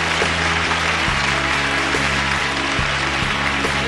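Studio audience applause on a televised job-hunting show, a dense, continuous wash of many hands clapping, loud and steady with no talk over it.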